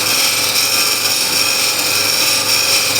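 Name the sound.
wood lathe running, scraper cutting wood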